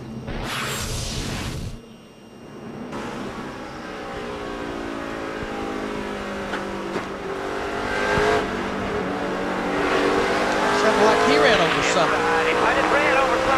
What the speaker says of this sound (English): Let's listen to Jeff Burton's on board here